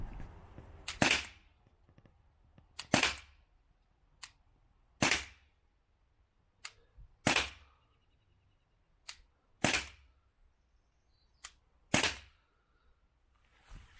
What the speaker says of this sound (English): 6 shots from 30 feet away